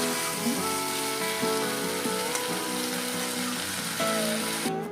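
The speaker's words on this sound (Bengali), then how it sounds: "দেখো সব কিছু একসঙ্গে কষছি আমি" Bitter gourd and potato curry frying with spices in a pan, a steady dense sizzle running throughout with occasional light clatter, no voices.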